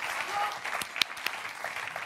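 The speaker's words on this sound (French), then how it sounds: "On beaucoup. applaudit Aurélien." A studio audience on a French TV quiz show claps in a moderate, fairly soft burst, with a few sharper individual claps standing out near the middle, and no voices over it.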